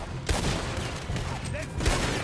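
Gunfire in the video game Red Dead Redemption 2, several sharp loud shots in quick succession over a dense battle din, with voices shouting amid the shooting.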